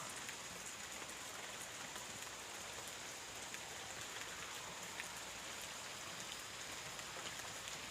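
Steady rain falls outside in Canada, an even, continuous hiss of drops on surfaces with no voices and no pauses, heard at a moderate distance.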